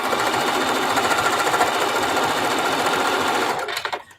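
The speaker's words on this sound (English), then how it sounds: "Some places I'm actually sewing 8 layers deep of denim, 2 layers of batting" Sewing machine stitching steadily through doubled denim from old jeans, up to eight layers deep with two layers of batting, in a fast continuous rattling run that stops near the end.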